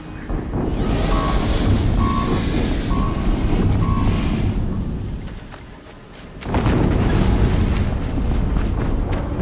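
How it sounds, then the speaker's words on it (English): A deep explosion in the video game Horizon Zero Dawn rumbles loud and heavy, with a repeating electronic beeping over it, then a brief lull and a second booming swell. "Another explosion."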